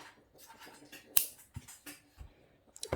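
Jewellery wire is snipped during a wire-wrapped pendant project, one sharp close click standing out amid quiet small handling noises.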